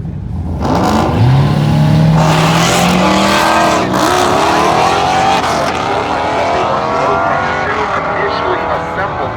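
Drag racing cars at Drag Week, including big-motored S10s, making a loud, close engine roar with tire squeal and rising revs as a car launches, then sustained high-pitched engine noise, with talk over it.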